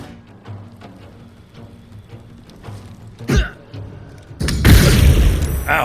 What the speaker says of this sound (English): throwing a bomb to Dalthar